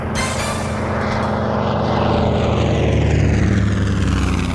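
A Mitsubishi A6M5 Zero fighter's propeller engine roars loud and close, holding a continuous drone that shifts slightly in pitch and swells toward the end.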